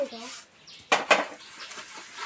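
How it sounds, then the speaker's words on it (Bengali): Plates being washed in a household kitchen: soft clinks of dishes and a couple of louder clatters of pans and cutlery close by, with faint voices in the background. "আর এই যেখানে প্লেট ধুয়ে নিচ্ছে"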